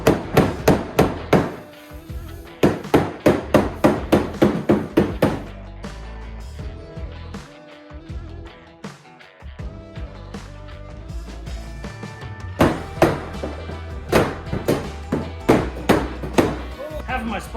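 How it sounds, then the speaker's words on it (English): Repeated loud metallic hammer blows on a 1979 Monte Carlo body panel in fast bursts, ringing sharply, with a short pause midway before the pounding resumes. "we gotta beat the shit out of it with a hammer"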